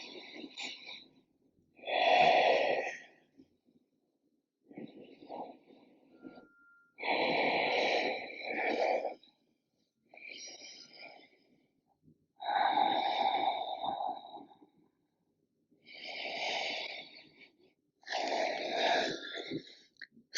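Deep, audible breaths during a held yoga pose, slow and rhythmic, each inhale and exhale a rasping, breathy rush with a clear pause between them, repeated about eight times close by.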